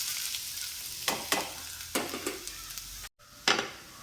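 Grated coconut roasting in coconut oil in a pan: a soft background sizzle broken by several sharp scraping stir strokes, with a brief silent gap near the end before one more stroke.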